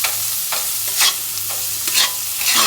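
Potatoes fry in oil in a modern iron wok on a stove, with a loud steady sizzle broken by repeated scraping stirs of a spatula at roughly half-second intervals, no voices.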